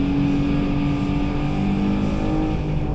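An Alfa Romeo Giulia accelerates hard down a half-mile race track straight, its engine holding a loud, steady, close drone with a sustained tone throughout and no voices.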